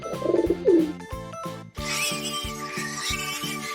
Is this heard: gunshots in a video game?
no